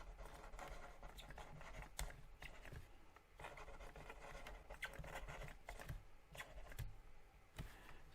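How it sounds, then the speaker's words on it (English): A pen scratches and taps faintly on paper, close by and irregular for several seconds, as names of materials are written out by hand. "So let's just write down the materials we'd be expecting to use."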